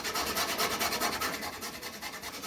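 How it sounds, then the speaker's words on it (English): Nutmeg is grated for a mac and cheese sauce, giving a steady, close, rhythmic rasping of repeated quick strokes with no talk. "I'm going to grate in a bit more of our nutmeg."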